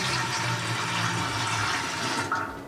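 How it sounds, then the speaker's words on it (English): Warm water, about 400 milliliters, pours into a 5-gallon steel drum as a steady, close rushing stream that runs without a break and tails off near the end. "I'm adding 400 milliliters of warm water"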